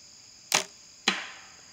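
Two arrows shot from a bow at about 30 yards while sighting in, each landing with a sharp thwack into wood, followed by a brief decaying rattle; the impacts are spaced about half a second apart, crisp and fairly close.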